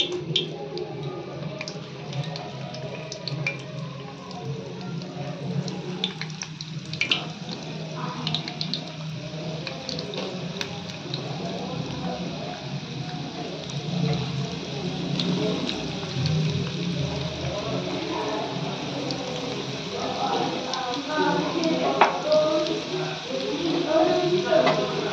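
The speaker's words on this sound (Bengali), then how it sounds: "এটা এবার আমি তেলে ভাজবো।" Chicken pakora frying in hot oil over a low flame, a steady close bubbling sizzle with crackle that runs throughout, with occasional clinks of a utensil.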